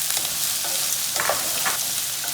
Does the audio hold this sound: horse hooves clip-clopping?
no